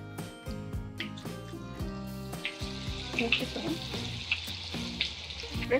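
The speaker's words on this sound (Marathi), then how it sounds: "ही जे फोडणी आहे ना, मला कायम अशी तडतडणारी फोडणी फार छान वाटते" Spices crackle and sizzle steadily in hot oil as a phodni tempering is made for amti, under continuous talking.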